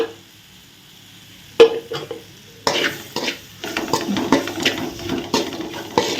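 Brinjal being stir-fried with turmeric masala in a pan on low flame: a quiet start, then a sharp spoon clack and steady scraping, stirring and soft sizzle with repeated utensil knocks against the pan.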